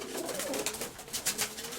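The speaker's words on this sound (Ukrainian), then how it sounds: "Торцовий голубок." A light-coloured, sharp-winged pigeon, a 'tortsovyi' type, coos softly nearby in a few short, rolling notes over a faint noisy background.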